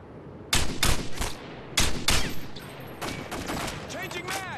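Rapid bursts of gunfire in a Search and Destroy round of a first-person shooter video game, loud close shots in several clusters with brief gaps and ringing tails, with no talk over them.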